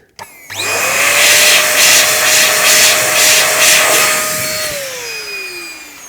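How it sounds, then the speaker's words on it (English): A MECO electric air duster blows dust out of a PC, starting with a sharp click and then roaring with a loud, steady, high-pitched motorized whine for several seconds before winding down, close and with no talking. "I have hit this with the duster"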